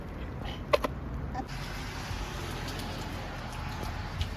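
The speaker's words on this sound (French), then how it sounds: "on arrête la pêche parce que il pleut comme vache qui pisse" Rain falls heavily outdoors during a fishing outing, a steady hiss of drops with faint distant noises and no speech.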